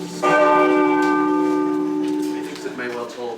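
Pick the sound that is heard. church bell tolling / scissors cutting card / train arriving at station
church bell tolling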